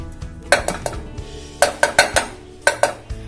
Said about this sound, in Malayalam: ഓക്കെ, അപ്പൊ ഞാനൊരു 1/2 കപ്പ് പഞ്ചസാര ചേർക്കാണ്.